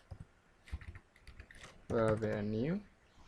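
A command is typed on a computer keyboard to install Composer, a few quiet, scattered key clicks near the microphone, briefly interrupted by a short voiced sound before fading back to quiet taps.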